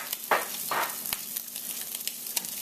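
Chopped garlic sizzling in a hot pan alongside browning Spam for fried rice, a steady close crackle with a few brief stirring scrapes and pops.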